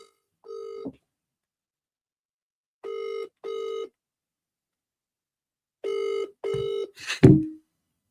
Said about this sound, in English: I'm going to ring Ahmed right now